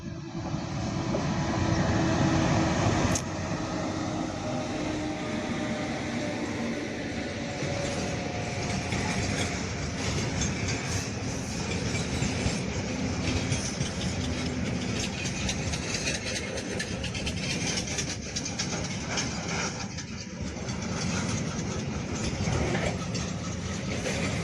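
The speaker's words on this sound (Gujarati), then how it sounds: "ગાડી આવે જ છે કારણ કે પાવો સંભળાય છે" A train with a single engine hauling a long, heavily loaded rake passes beside farm fields: a loud, continuous rumble and rattling clatter that holds steady from start to finish, close by.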